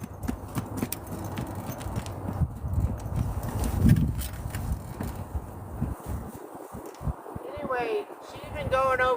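Hooves clop at a walking pace while people talk over them, and a bird chirps briefly near the end.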